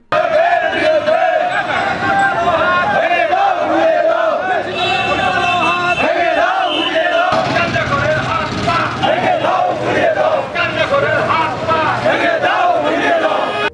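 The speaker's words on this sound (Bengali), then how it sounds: "র্যালিতে সচেতন সব বয়সীরা অংশ নিয়ে মাদকের বিরুদ্ধে স্লোগান তুলেন" Crowd at an anti-drug rally in the street, people of all ages chanting slogans in unison, loud and sustained with shouting voices and background street noise throughout.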